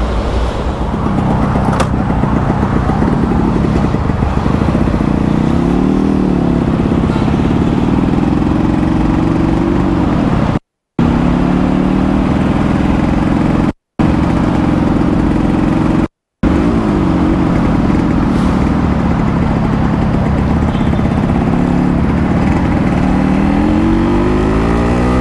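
An original 1980 Yamaha RX100 two-stroke motorcycle engine runs loud and close, idling with a steady buzz and rising in several revs, broken by a few brief dropouts.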